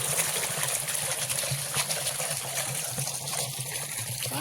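Water runs from a farm pump on a field, a steady close trickling and splashing flow with a low rumbling undertone continuing throughout.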